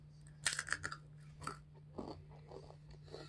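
Close chewing of crunchy, stale nacho-flavored Goldfish crackers: a burst of sharp crunches at the start, then softer, spaced bites and chews under a low steady hum, with no talking.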